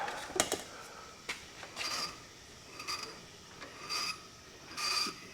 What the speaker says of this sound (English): I should take the pulley off here